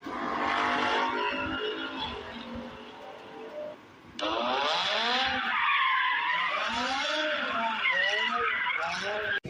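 Tires screech in a long, wavering squeal as a vehicle skids before an accident. The shrill sound rises again after a brief dip and stays loud throughout.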